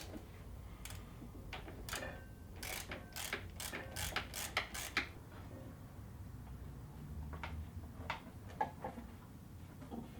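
Hand tools ratchet and click while the brake master cylinder is unbolted from a 1985 Suzuki GSX-R 750 motorcycle. The ratcheting comes in close bursts of quick clicks, with a steady low hum in the background.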